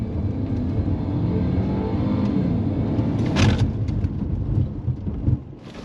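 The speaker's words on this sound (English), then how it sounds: "You will full throttle until you hit the brake at the braking zone there." A car on Continental UC7 tyres at full throttle, a loud, steady engine roar close by that surges briefly before easing off near the end as it brakes hard.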